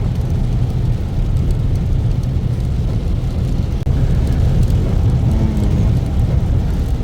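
A car drives at speed through heavy rain in Dammam, Saudi Arabia. There is a loud, continuous low road rumble and rain wash with no talk, and one brief knock near the middle.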